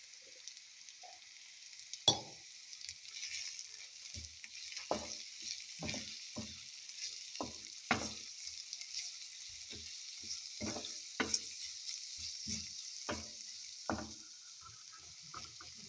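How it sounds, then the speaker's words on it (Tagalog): Sliced eggplant is half-fried in a pan with a steady, soft sizzle. Scattered taps and scrapes of a utensil against the pan punctuate it, and there is no talking. "lagay na natin din ang na-slice na eggplant. Ayan. Iha-half fry natin ito."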